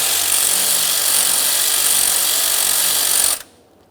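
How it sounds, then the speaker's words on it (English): A power tool whirring continuously as it loosens the 10mm alternator mounting bolts on a 2004-2008 Ford F-150 5.4L V8, loud and close, then cutting off abruptly near the end. "Let's loosen the pair."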